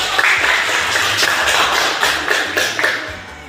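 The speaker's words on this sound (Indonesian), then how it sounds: "Oke, tepuk tangan." A class of students clapping their hands, a loud, close, even round of applause with sharp individual claps that holds steady and then tapers off.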